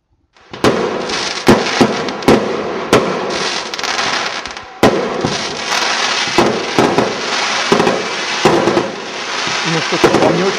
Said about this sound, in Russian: Остался праздничный фейерверк, он как раз сейчас начнется